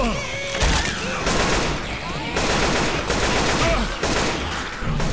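Heavy gunfire in the video game Left 4 Dead 2: rapid, overlapping bursts and shots blend into a loud, continuous barrage with short swells, and voices are heard faintly under the shooting.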